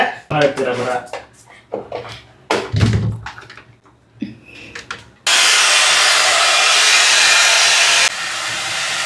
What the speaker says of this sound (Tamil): நாங்கள் ட்ரையர் போடும்போது மைலோவுக்கு பயங்கரமாக பிடிக்கும்